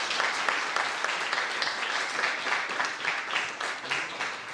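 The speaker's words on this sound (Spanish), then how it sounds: "un fuerte aplauso entonces para los tres profesores." An audience at an academic forum gives sustained, lively applause for three professors, a dense wash of many hands clapping at even strength throughout.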